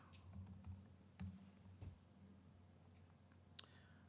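Computer keyboard typing during a conference talk on booting bare-metal servers, a few soft scattered keystrokes over a low hum with one sharper click near the end.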